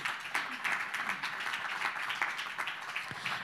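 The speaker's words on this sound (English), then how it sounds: "So please give him a big round of applause and welcome to the stage." Audience at a policy dialogue event clapping to welcome a speaker to the stage, a continuous patter of many hands at moderate level with a few sharper individual claps standing out.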